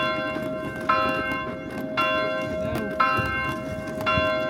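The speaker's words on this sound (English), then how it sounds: "I think I've started the bells ringing." Church bells ring out in repeated strikes about once a second, loud and close, their long harmonic tones overlapping above a low rumble of wind or traffic noise.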